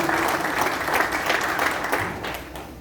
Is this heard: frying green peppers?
no